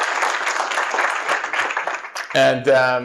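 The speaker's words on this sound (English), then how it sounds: "A round of applause for being the great classes that you all are." An audience of leadership class members at a gathering gives a round of applause, dense steady clapping for about two seconds, followed by someone speaking.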